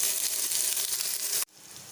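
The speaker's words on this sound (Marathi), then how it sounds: "पॅनमध्ये थोडे तेल घालून कांदा छान लालसर भाजून घ्यायचा आहे" Onion frying in oil in a pan while kolambi (prawn) masala is prepared: a dense, steady sizzle that cuts off abruptly near the end, leaving a softer hiss.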